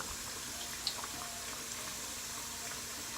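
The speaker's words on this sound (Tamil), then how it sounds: "நம்ம இப்போ யூஸ் பண்ண எல்லா ஜாமானத்தையும் ஒவ்வொன்றா கழுவி வச்சுட்டு வந்துடுறாங்க" A kitchen tap runs steadily while cooking utensils are washed, making a continuous soft hiss of flowing water, with a faint clink or two and no talk.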